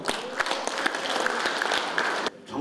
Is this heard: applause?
yes